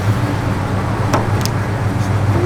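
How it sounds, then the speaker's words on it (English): A 1971 Oldsmobile 442 with air induction and a mild cam idles close by, a steady, deep low rumble holding even throughout. "Car sounds good."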